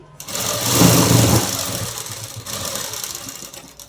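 A sewing machine stitches fabric for a festival dress, its fast mechanical whirr running continuously for about four seconds, loud and close with no speech.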